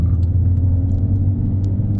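A Nissan Note's engine drones while driving, a steady low rumble and road hum heard from inside the car with no one talking.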